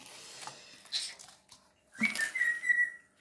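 A parrot whistles in short tonal phrases, a few soft chirps early, then a brighter run of repeated whistled notes near the end, close by.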